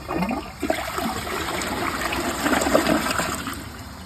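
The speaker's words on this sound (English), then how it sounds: "let's give this toilet a flush first and see how it flushes" A Niagara Stealth vacuum-assisted toilet flushes once, a loud, close, steady rush of water that lasts about four seconds, with no talking.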